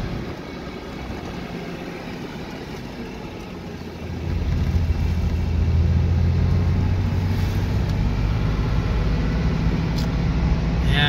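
A classic collectible Porsche drives past. It starts as a faint hum, then a louder, steady low engine drone builds and holds, with no talking.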